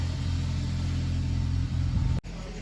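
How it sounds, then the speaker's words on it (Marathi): A car engine runs with a steady low rumble as the vehicle is taken out, loud and close throughout, cutting off abruptly near the end before resuming. "तो काढतोय गाडी गाडी काढतोय"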